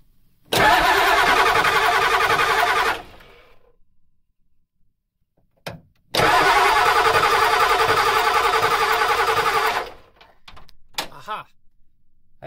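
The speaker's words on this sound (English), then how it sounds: "you got to hold it as long as you're cranking" A 7.3 IDI diesel engine cranked on the starter while its fuel lines are being bled: two long, loud cranking runs of about two and a half and four seconds, separated by a pause, ending in faint clicks and rattles.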